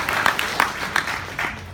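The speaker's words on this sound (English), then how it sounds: "Give a round of applause." Audience applause at a food festival, a short round of clapping with scattered louder claps rising over a busy crowd background.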